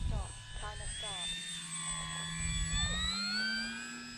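An aircraft engine drones steadily through a flight aboard a Bigfoot-equipped bush plane, a loud continuous hum with shifting tonal whine and faint cabin chatter underneath.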